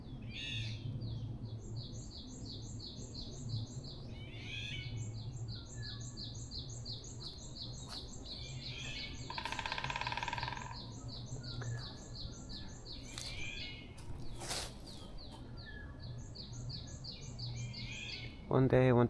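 Korean forest birds on Bongseosan mountain sing in repeated rapid chirping trills, fairly faint and spread through quiet woodland, with brief louder calls and a steady low hum beneath, plus a sudden close knock near the end.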